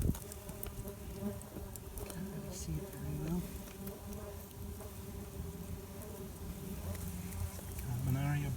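Australian stingless bees buzzing around an opened hive with brood comb, a close continuous insect drone with occasional louder passes, while people talk quietly nearby.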